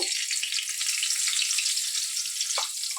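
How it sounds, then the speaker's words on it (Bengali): Chopped onion sizzles in hot oil for a Bengali silver carp fish curry, a steady, loud, close frying hiss that runs unbroken throughout. "এই যে পেঁয়াজ দিয়ে দিলাম পেঁয়াজ কুচি এটা একটু লাল লাল হয়ে যাবে"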